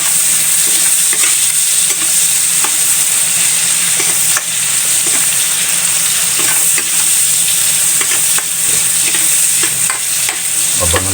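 Shrimp sauté in margarine in a pan, making a loud, continuous sizzle and crackle up close, with regular scraping and stirring strokes throughout.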